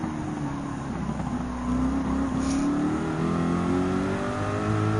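A race car engine revs steadily in Gran Turismo 7 during a Manufacturers Cup exhibition race, a loud continuous drone whose pitch climbs and shifts as the car accelerates, with no voices over it.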